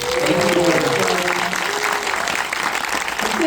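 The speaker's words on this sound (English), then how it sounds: "Please, another round of applause." An audience applauds at a live onstage conversation about the F1 film with Jerry Bruckheimer and Joseph Kosinski; full, sustained clapping from a large crowd, with faint voices underneath.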